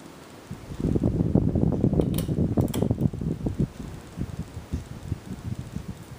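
Canarm CF42H-5 42-inch ceiling fan running at medium speed gives a steady airy whoosh with a soft rhythmic low flutter, close by and moderately loud, with no voices.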